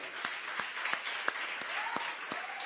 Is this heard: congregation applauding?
yes